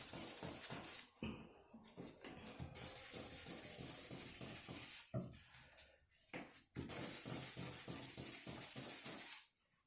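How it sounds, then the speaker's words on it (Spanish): A craft piece is sanded by hand in steady, rhythmic rubbing strokes, close and crisp, with a few brief pauses between passes and no talk. "Con la lijada sale."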